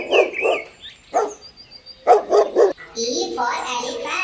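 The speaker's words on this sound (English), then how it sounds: "D for dog." A dog barks in short bursts, a pair and then a quick run of barks, close up, followed by a noisy animal call at the end.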